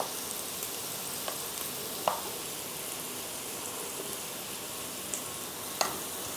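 Spiced masala for aloo dum pulao fries in a pressure cooker, a steady, even hiss of sizzling oil with a few light scraping clicks of a spoon stirring, no talking.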